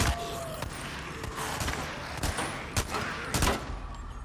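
Gunfire in the video game Days Gone: about half a dozen sharp, loud shots at uneven intervals over a noisy combat background.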